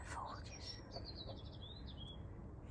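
Small birds chirp faintly in a snowy outdoor setting, a string of thin, high tweets in quick succession under a low background rumble.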